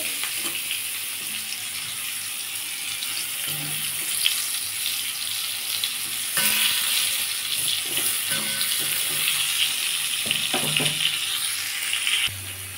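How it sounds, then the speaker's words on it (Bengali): Pointed gourd frying in a pan and being turned over, a steady bright sizzle with intermittent spatula scrapes and taps, growing a little louder midway, heard close with no voices. "পটলটাকে উল্টে পাল্টে ভালো করে লাল করে ভেজে নিতে হবে"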